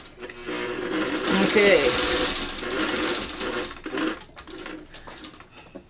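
Sewing machine stitching a quilt seam, a steady loud mechanical whir running through most of the stretch, with a person speaking briefly near the end.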